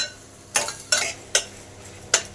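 Dried red chillies and garlic frying in oil in a pan, stirred with four sharp, bright scraping strokes at uneven intervals over a faint background sizzle, with no talking.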